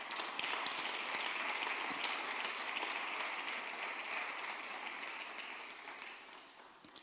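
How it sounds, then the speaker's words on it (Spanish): A church congregation applauds, a steady wash of many hands clapping in a reverberant hall, fairly faint and gradually fading toward the end, with no talk. "Aplauda al Señor por eso."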